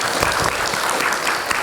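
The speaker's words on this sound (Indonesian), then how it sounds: "Baik, tepuk tangan dulu teman-teman semua." An audience at a Ramadan study session claps steadily in a brief burst of applause that sounds close and fairly loud, with no speech over it.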